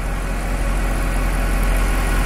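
A car engine idles steadily after being started during a battery test, a continuous even rumble close by with no talk over it.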